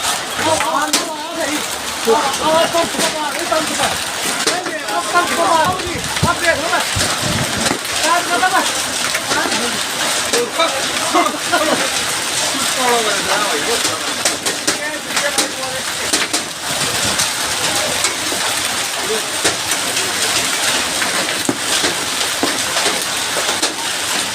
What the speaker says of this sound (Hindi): ये देखिए आप किस तरह से ओले पड़ रहे हैं।